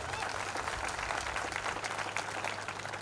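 Audience applause at a college orientation programme rolls on as a continuous wash of clapping throughout, moderately distant and fairly quiet, without a clear start or finish.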